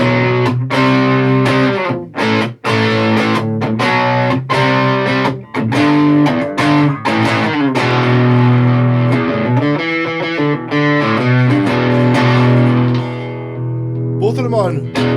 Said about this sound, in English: And then super distortion.